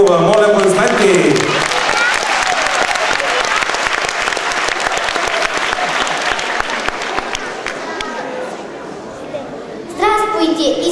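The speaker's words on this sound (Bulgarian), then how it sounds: "Моля, аплодисменти!" A school concert audience breaks into loud, dense applause after a young journalism student is introduced, the clapping holding steady for several seconds before voices return at the start and end.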